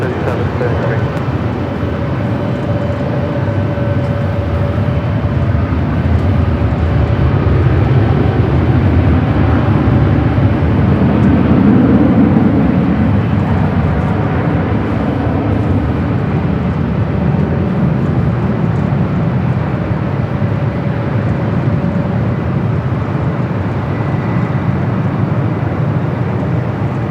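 An airliner rolls down runway 24 left at Los Angeles International Airport on takeoff, a loud steady broadband engine roar that swells slightly mid-clip and holds without a break.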